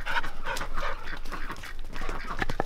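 A dog on an off-grid homestead, panting and giving short excited yelps in quick bursts close to the microphone, with no talking.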